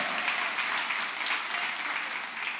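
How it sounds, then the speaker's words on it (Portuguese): Steady applause from a church congregation during a sermon, a dense continuous clapping that holds even and full from start to finish with no voices breaking through. "Você pode aplaudir mais forte a Jesus, porque Ele é digno."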